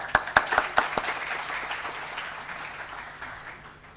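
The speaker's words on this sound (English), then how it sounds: "definitely there should be a clap for him." Seminar audience applause begins with a few sharp distinct claps, then blends into a softer spread of clapping that gradually fades away.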